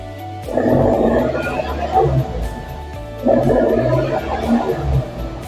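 A 2020 Ford Ranger pickup engine with an HKS Legamax dual side-exit exhaust revs twice, each burst a deep, gargling roar that swells and settles back to a rumbling idle.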